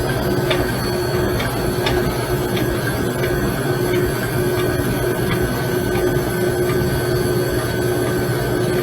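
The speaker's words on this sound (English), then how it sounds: "This is specifically my buttercream mixer." A stand mixer whips buttercream in a home kitchen, giving a continuous mechanical whir and hum with faint regular ticks from the beater. It runs steady and fairly loud, with no talking.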